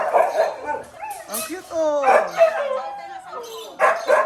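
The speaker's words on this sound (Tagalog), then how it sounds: "Ayan, kita ng aso mo." A pet dog at a house being shown after renovation barks and yips a few times close by, mixed in among people chatting in the room.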